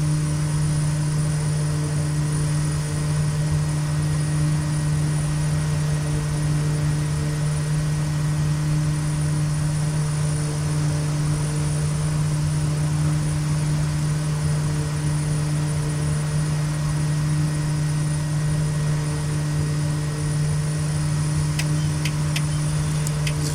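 A Kodiak 100 single-engine propeller plane climbs in a flight simulator game over Papua New Guinea, its engine holding a steady, loud, even drone with a constant propeller hum throughout, no voices.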